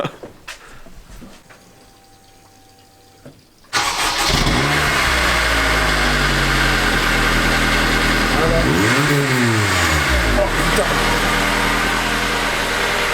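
A car engine held at high revs on launch control inside a garage, starting after a few quiet seconds, then a loud steady roar with pitch sweeps as it climbs and drops; voices are faintly audible.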